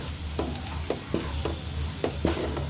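Ghee chicken cooking in ghee in a pan, a steady sizzle with a spoon clinking and scraping the pan in several sharp strokes, close, with no talk.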